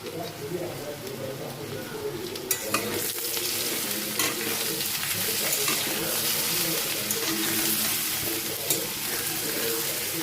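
Ginger and slit green chillies fry in a pan with a strong, continuous sizzle and occasional stirring scrapes, close up, with a person talking over it.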